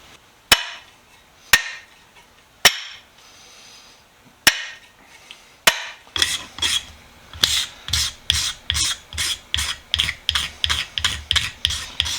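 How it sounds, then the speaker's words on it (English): Old clear coat being scraped off the wooden handle of a Keen Kutter carpenter's hatchet: a few sharp, spaced knocks, then fast, rhythmic rasping scrape strokes, close and loud with no talking. "Scraping the old clear coat off of the handle, getting all the years of funk and gunk off it too."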